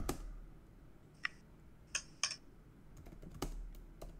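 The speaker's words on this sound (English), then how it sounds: "I'm typing it because I want to put it in the chat for the." Keystrokes on a computer keyboard, a handful of sharp, irregularly spaced clicks and taps at close range over a quiet room background, with no talking.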